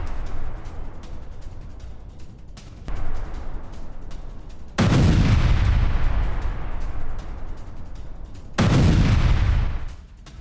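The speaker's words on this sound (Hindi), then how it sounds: "ग्रैंड एमएलआरएस पर यूक्रेन का हमला हुआ है। ग्रैंड एमएलआरएस के साथ मिसाइल स्टॉक भी तबाह किया गया है।" Heavy explosions strike a Russian Grad multiple rocket launcher position and its missile stock during a Ukrainian attack, two loud booming blasts rolling out over a lower rumble of distant gunfire.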